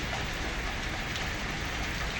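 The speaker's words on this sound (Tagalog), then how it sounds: "Malakas po ang ulan." Heavy rain pours steadily outdoors, a dense, even wash of hiss with no breaks or voices.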